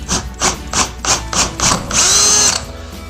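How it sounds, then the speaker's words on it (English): A power drill fitted with a 1/2-inch bit bores a hole into a wall, loud and close, with six short pulsed bursts followed by one steady, sustained run of the motor. "First, by placing the drill right on the hole,"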